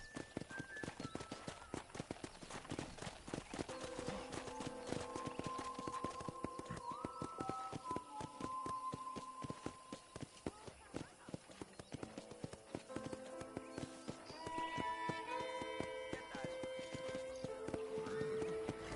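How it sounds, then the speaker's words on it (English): Horse hooves clip-clop steadily through Red Dead Redemption game audio on a ranch, under a bed of music and effects, with a brief whinny. "I picked out a fine horse for you."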